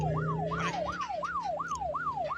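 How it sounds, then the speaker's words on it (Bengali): Police car siren in the Indian Theft Auto Simulator video game, a rapid rising-and-falling wail repeating steadily over a low engine hum, heard alone. "বাইরে ওটা পুলিশের গাড়ি"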